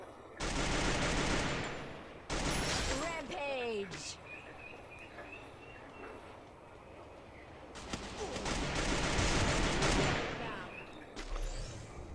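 Bursts of SCAR rifle fire from the Free Fire mobile shooter, loud rapid volleys at the start and again near the end, with game ambience and insect-like chirps between and talk mixed in.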